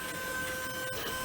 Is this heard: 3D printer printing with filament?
yes